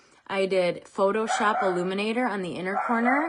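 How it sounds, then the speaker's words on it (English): A dog yips and whines close by, mixed under someone talking continuously throughout. "Sorry about my dog."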